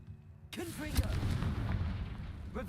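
Confringo spell blast in a video game: a sharp booming burst after a short silence, followed by rumbling debris and crackling under a spoken voice, fairly loud and close.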